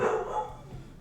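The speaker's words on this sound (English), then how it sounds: "Oh, my dog is going nuts." A dog barks in the background during a horse racing game session, with short, overlapping yaps that sound muffled and somewhat distant, repeating through the second.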